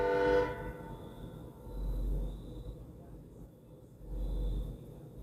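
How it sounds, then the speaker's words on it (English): A distant train horn sounds in a few long, steady blasts with pauses between, heard faintly over low background rumble and room noise. "Is that a train?"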